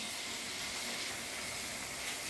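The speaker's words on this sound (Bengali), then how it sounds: "দেখো পনিরগুলো ভাজা হচ্ছে।" Paneer frying in melted butter in a pan, giving a steady, continuous hiss and sizzle that stays even and fairly close throughout, with no talking.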